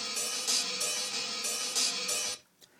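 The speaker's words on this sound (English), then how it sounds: "for the hi-hats I sampled a 2-bar loop from the actual track" A two-bar hi-hat loop sampled from a track repeats as bright, hissy cymbal ticks with regular accented hits, then cuts off abruptly near the end, leaving near silence.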